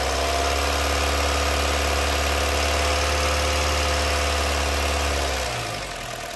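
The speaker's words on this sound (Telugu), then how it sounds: "సార్ కొద్దిగా యాక్సిలేటర్ ఇవ్వరా" A 2014 Honda City V petrol car engine idles steadily and loud up close with a strong low hum, then winds down and quiets near the end as the engine is switched off.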